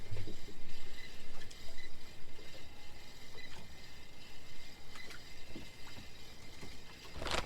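A fishing reel is wound in while night fishing, giving a continuous rhythmic mechanical whirring and clicking over water and outdoor background noise.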